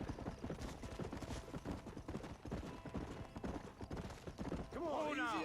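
Hooves clop in a quick, steady gallop from a horse in the Western video game Red Dead Redemption, close and continuous, with game voices talking over it and a sharp whinny-like sweep near the end.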